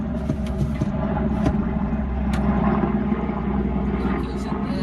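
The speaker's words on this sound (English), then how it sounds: "There's a helicopter going overhead." A Royal Navy helicopter's steady rotor drone rumbles overhead, loud and continuous, with faint background noises throughout.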